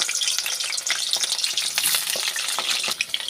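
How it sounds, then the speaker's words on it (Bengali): Potatoes sizzling and crackling in hot mustard oil, a dense steady frying hiss with sharp pops throughout, close and loud, with no voices. "তেলটা আমার গরম হয়ে এসেছে, একে একে আলুগুলো ছেড়ে দেবো।"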